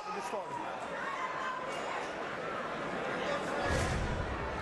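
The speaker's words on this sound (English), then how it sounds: "Crowd crowd reacting quite enthusiastically to him checking out his injury" A fight crowd at a Bellator MMA event reacts with loud, continuous cheering and chatter, swelling toward the end, while a commentator talks over it.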